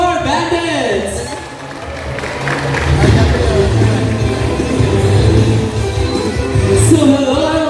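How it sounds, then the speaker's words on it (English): An audience at a bird show at Cebu Ocean Park Theater claps and cheers for a trained bird, building into steady applause mixed with crowd noise and voices. "A round of applause for bandits!"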